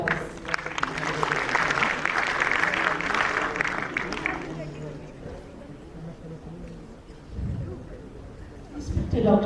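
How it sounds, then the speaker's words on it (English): Audience applause welcoming a speaker to the stage at an academic talk on Agnihotra, a dense burst of clapping for about four seconds that fades out, followed by a quieter room with a voice near the end. "Let us extend a warm welcome to her with a huge round of applause."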